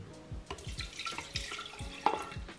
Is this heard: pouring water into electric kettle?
yes